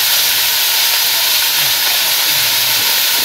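Vegetables with cumin seeds sizzle and hiss loudly and steadily in a hot pan while being stir-fried in a Bangladeshi village kitchen, with a soft scrape or two underneath.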